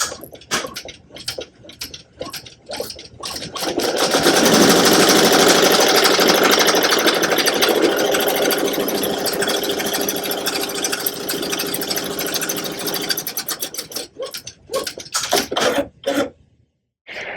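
A Ricoma EM1010 embroidery machine stitches an appliqué tack-down line, a loud, steady mechanical whirring and rapid ticking that holds for about ten seconds before stopping, with a few clicks and handling noises before and after.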